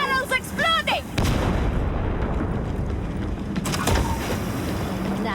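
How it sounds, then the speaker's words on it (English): A barrel explodes in Warhammer 40,000: Darktide with a loud, sustained booming blast and rumbling debris after a shouted voice, followed by a second burst of combat noise. "The barrel's exploding!"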